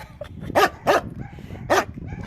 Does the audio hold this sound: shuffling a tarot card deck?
no